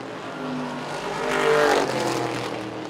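Street stock race cars at Lancaster Motorplex roar past off turns 3 and 4 on a dirt oval, a distant engine drone swelling to a peak and then fading.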